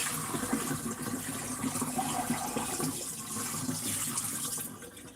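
Homemade butter made from heavy whipping cream is rinsed under running water, a steady close splashing and trickling of liquid that stays loud for the whole stretch with no talking.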